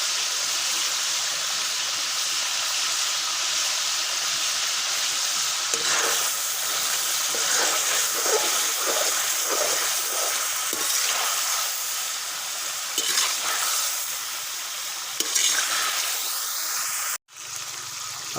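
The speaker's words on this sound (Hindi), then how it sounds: "अब इसमें मिर्चें डालेंगे, लाल मिर्च, और गोश्त के साथ वो भी फ्राई होती रहेंगे" Chicken karahi meat with red chillies frying in a pan, a steady hiss and sizzle that carries on for a long stretch, with bursts of sharper crackling and a clank near the end.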